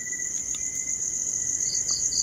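A steady, high, continuous insect trill runs throughout, with a few brief higher chirps near the end over a soft background hiss.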